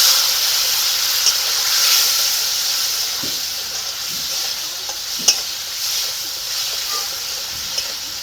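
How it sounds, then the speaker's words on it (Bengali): Spice paste of salt, turmeric and a little water fries in a hot pan with a steady, close sizzle and hiss, punctuated by faint occasional scrapes of stirring. "মশলাটাকে এখন ভেজে নেব"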